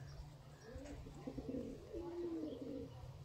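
A Lakha Indian pigeon gives soft, rolling coos, faint and close, over a low steady background hum.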